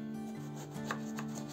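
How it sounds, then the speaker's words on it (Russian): A knife cuts eggplant into large cubes during outdoor campfire cooking, giving a few soft, separate chopping strikes over a steady background hum. "и нарезаем кубиками."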